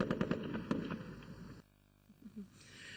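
Live rounds fire in a rapid series of sharp, loud cracks on the Tanabougou firing range near Koulikoro, then the shots stop and a quieter, muffled stretch follows.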